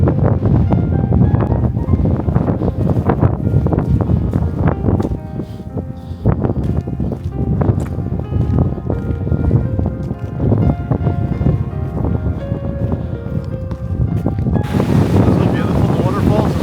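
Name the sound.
strong wind on a coastal mountain road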